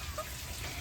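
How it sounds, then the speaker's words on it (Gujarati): Heavy rain driven by strong wind during a monsoon downpour in Gujarat, a steady broadband wash of falling water that stays fairly quiet and even across a brief moment, with no voices. "એકદમ વાવડા સાથે વરસાદ દેવા માંડ્યો"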